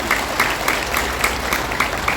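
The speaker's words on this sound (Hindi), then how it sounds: "जोर से ताली हो जाए" After a patriotic song at a memorial gathering, a large audience breaks into loud, sustained applause, a thick wash of clapping hands that continues without a break.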